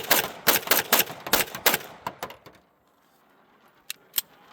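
A Springfield Prodigy pistol fires a rapid string of about six sharp shots close by, then a few scattered quieter shots and two more distinct reports after a short pause, with no talking.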